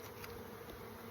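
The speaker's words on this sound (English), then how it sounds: "because there's lots of bees underneath there" A hive of honeybees gives off a steady, low buzzing hum, faint but constant over a brief moment.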